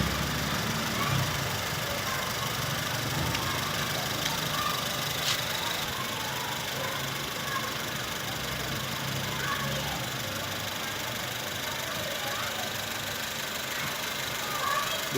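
A washed 2011 Honda Civic VTi Oriel engine idles with a steady, even drone that stays constant throughout, close and moderately loud, with no speech over it.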